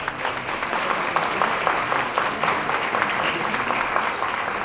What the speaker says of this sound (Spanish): queremos saludar con un fuerte aplauso